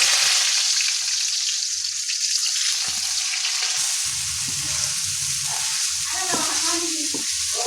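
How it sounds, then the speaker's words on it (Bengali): Chilies, garlic and seeds fry in hot oil for a Bengali poi shak (Malabar spinach) dish, giving a steady, close sizzle with occasional stirring scrapes and no talk. "তারপর এখন মরিচ ভেজে নিচ্ছি, তারপর দিয়েছি রসুনগুলি, সাথে হচ্ছে বিচিগুলাও দিয়ে নেব"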